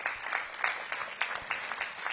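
Light, thin applause from a small audience at a Washington, DC mayoral announcement, honoring board members in attendance; a handful of claps come through faintly and somewhat distant.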